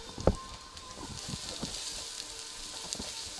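Diced onions sizzle in a hot pan for a spicy shrimp and crab vindaloo, a steady soft crackle with a sharp clatter near the start and scattered small pops.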